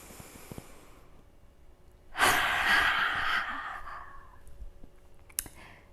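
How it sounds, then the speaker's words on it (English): A person doing yoga draws in one deep, audible breath, a rushing inhale lasting about two seconds that fades into a softer exhale, set in an otherwise quiet room. "And one more time, breathe in."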